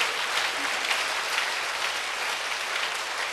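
A church congregation at a Korean Sunday worship service claps together, a steady, dense wash of applause that holds evenly throughout with no talking over it.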